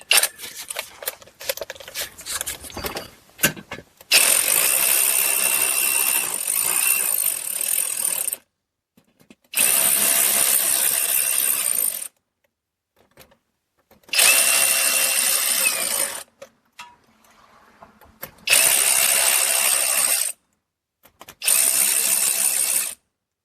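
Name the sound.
tightening fasteners on a car's active grille shutter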